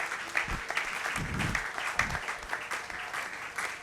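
A church congregation claps together in a steady, fairly loud burst of applause that fills the room and carries on throughout, with a few louder hand strikes near the front.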